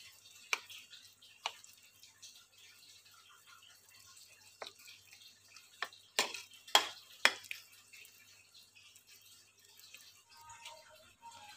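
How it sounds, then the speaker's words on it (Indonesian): Quiet, sparse scraping and tapping of a utensil against a bowl as thick chicken and tofu meatball dough is stirred, with a few sharper knocks midway. "adonan kita aduk sampai rata"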